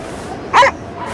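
A single short, sharp dog bark or yip rings out against a quiet backdrop, brief and fairly close, with no speech.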